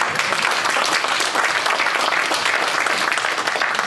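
Steady, dense audience applause at a political breakfast in Berks County, loud and continuous from many hands throughout with no speech over it.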